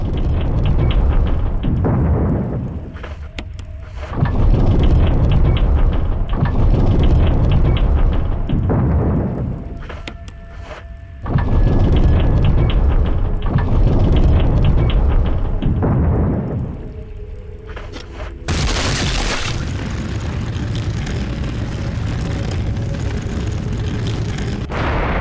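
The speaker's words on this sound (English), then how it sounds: "you can actually kill the spider in 6 grenades" Grenade blasts striking a giant spider in Resident Evil HD Remaster, several heavy booming explosions spaced a few seconds apart, each rolling out into a long rumble, followed by a brighter, noisier burst near the end.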